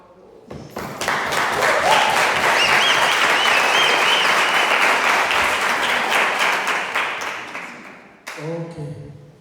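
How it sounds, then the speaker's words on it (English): A crowd at a robotics team presentation breaks into loud, full applause that swells quickly, holds steady for several seconds, then fades and cuts off into a brief quieter moment. "I think you need a big round of applause"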